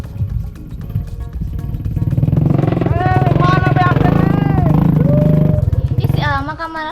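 A motorcycle engine that keeps stalling rumbles steadily at close range, its low drone running under voices talking and some music.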